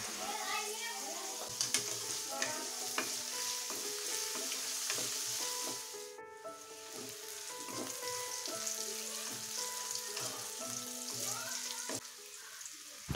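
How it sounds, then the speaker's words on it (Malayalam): Shallots and green chillies sautéing with salt in a pan for Kerala-style kappa biriyani, a continuous loud sizzle with spatula scrapes and clinks, a brief dip in the frying midway and faint voices underneath. "ആദ്യം തന്നെ ഇതിലേക്ക് കൊച്ചുള്ളിയും പച്ചമുളകും ചേർത്തിട്ട് നല്ലതുപോലെ ഒന്ന് വഴറ്റിയെടുക്കാം"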